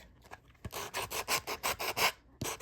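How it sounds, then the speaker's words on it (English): A sanding block with higher-grit paper rubs around the edges of a small resin bowl, giving about seven close, rhythmic rasping strokes with brief pauses and no talk. "using a sanding block with a higher grit, this is pretty yucky, but it works, go around the edges"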